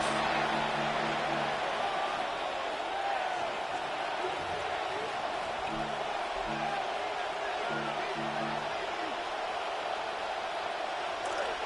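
A simulated stadium crowd in a Madden NFL football video game keeps up a constant low roar without letting up, and brief tonal horn-like bursts sit on top of it.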